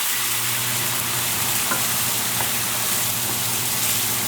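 Braised pork chops sizzle in a hot pan with a dense, steady crackling fry, loud and even throughout with a low hum underneath.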